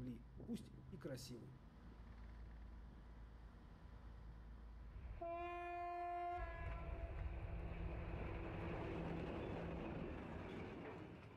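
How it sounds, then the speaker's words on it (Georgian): A train on the old Circum-Baikal railway: a loud horn blast mid-clip, then a steady, close rumble of rolling wheels. People talk briefly at the start. "ძველ ბაიკალის წრიულ რკინიგზაზე ბორბლები გუგუნებს"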